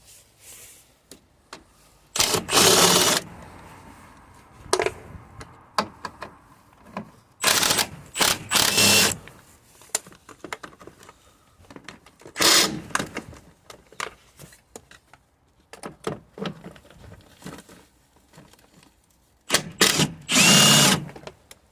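A power tool whirs in several short, loud bursts with quiet gaps while it removes 13mm bolts on a Vauxhall Corsa, up close and without speech.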